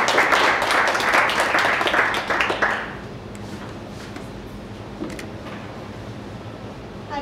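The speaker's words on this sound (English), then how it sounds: "we all stand and welcome and give a round of applause for our first presenter" A standing audience at a 1 Million Cups Dallas startup event applauds the first presenter, dense clapping for about three seconds that cuts off, leaving quiet room noise with a few faint stray sounds.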